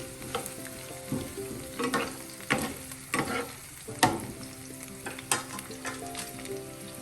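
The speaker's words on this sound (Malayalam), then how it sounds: "പുളി ചേർക്കാം എല്ലാം കൂടെ ഒന്ന് വഴറ്റി" Small onions, chillies and tamarind sautéing in a pan for a chutney, a continuous sizzle punctuated by regular spatula stirs and scrapes, close and alone.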